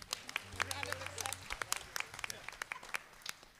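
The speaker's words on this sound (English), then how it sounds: "Give yourselves a round of a clap." A church congregation at a birthday celebration and leadership handover claps quietly, scattered sharp hand claps at an irregular rhythm over a faint low hum, with some background voices.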